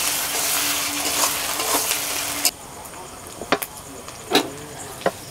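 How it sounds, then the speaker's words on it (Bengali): Chopped onion with ginger garlic paste frying in hot oil, a steady sizzle for the first half that drops away, followed by a few sharp clinks of a spoon stirring the pan. "এক বাটি কুচানো পেঁয়াজ, আদা রসুন বাটা দিয়ে দিচ্ছি। পেঁয়াজ লাল করে ভেজে নিয়েছি।"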